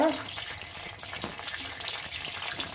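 Bread frying in hot ghee for shahi tukda, a constant crackling sizzle close by, with occasional faint scrapes and bubbling pops.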